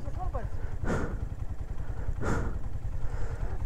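A small 70cc motorbike engine chugs and putters unevenly at close range, its low rhythmic thumping steady beneath wind and someone talking over it.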